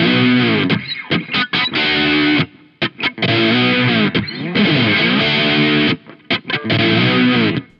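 A guitar riff played with distortion on, loud, thick and gritty, in choppy chords separated by short pauses, with no other sounds.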